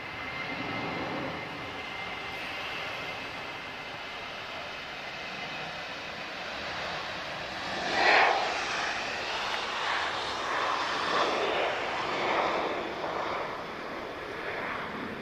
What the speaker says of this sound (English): Quite a long departure from Ryanair there.